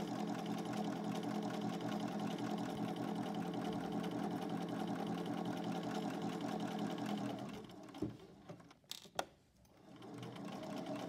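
Sewing machine running steadily as it stitches over a fabric casing, a continuous mechanical whir for most of the stretch, then stopping abruptly with a few quiet clicks and handling noises at the end.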